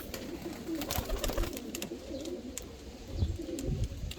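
Soft, rolling coos of Hungarian white-tailed pigeons repeat over a busy background of fluttering and scattered chirps, fairly close.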